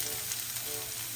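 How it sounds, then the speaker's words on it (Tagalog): Garlic fries in a hot pan with a steady, close, bright sizzle that holds evenly throughout, with no talk over it. "piprito ko na itong ating bawang"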